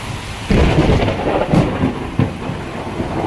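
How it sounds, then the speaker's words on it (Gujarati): Heavy downpour with thunder at Kedarnath, a dense steady roar of rain broken by several loud, sharp thunder cracks, with rumbling swells near the start and middle. "ધોધમાર વરસાદ ચાલુ છે."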